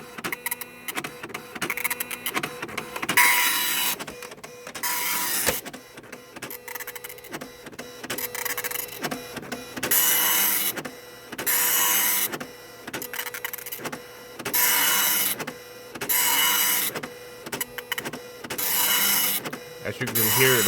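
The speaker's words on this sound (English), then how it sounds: "As you can hear, the printer is very loud." A Citizen GSX-140 dot matrix printer prints a page, loud buzzing print-head passes alternating with short pauses in a regular rhythm, close and dominant throughout.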